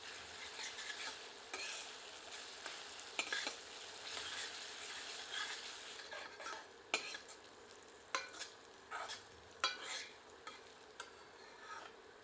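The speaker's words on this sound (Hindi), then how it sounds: "प्याज में इसे मिलाकर 2 मिनट भून लेते हैं।" Onion frying with ginger-garlic paste in a pan, a steady sizzle with repeated scraping stirs of a spoon, close and moderately loud with no talk.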